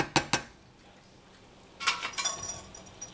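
A lid is set onto a cooking pot of simmering strawberry, apricot and orange sauce: two sharp metallic clinks at the start, then a quieter run of rattling clatters as it settles.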